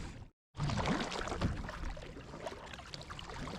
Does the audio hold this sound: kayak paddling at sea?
yes